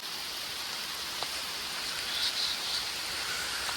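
Morning rain falls steadily on a Konkan village, a dense, even hiss with a few faint drips standing out near the middle.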